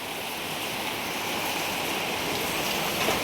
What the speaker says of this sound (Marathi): लय पावसाने जोरदार हे झालंय.